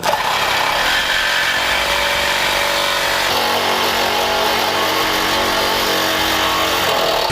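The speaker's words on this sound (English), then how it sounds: "we're going to take a Sawzall and cut them off" Sawzall reciprocating saw cutting through a couple of welded-together metal layers while fitting a Blue Ox base plate to a 2011 Honda CR-V; a loud, steady buzzing cut runs nonstop, close up, with no talking.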